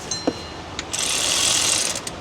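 A ratchet works on tight bolts of a 3.7 Dodge Dakota engine, a few isolated clicks followed by a sustained close rapid clicking run, ending with a couple more clicks.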